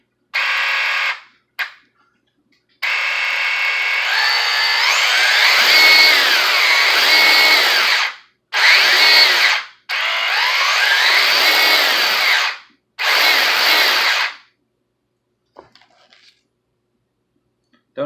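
A WLtoys brushless RC amphibian's motor runs loud and close, with harsh whirring bursts of several seconds that rise and fall in pitch and are broken by short silent gaps.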